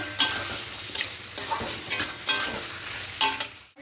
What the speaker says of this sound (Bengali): এবার ভেজে রাখা সব সবজিগুলো দিয়ে দেব খুব ভালো করে মিশিয়ে আর একটুখানি কষিয়ে নেব